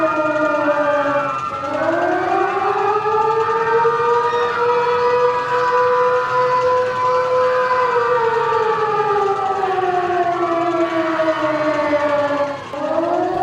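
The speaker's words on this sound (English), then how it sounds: "All of a sudden they heard a siren sound in a distance." A wailing siren rises and falls in long slow sweeps, loud and continuous, dipping briefly before climbing again, with no voices over it.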